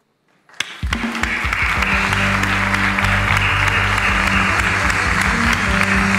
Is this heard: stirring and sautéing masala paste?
no